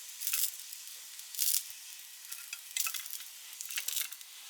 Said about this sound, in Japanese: コロコロ転がして側面にも片栗粉をまぶしたら焼いていきます。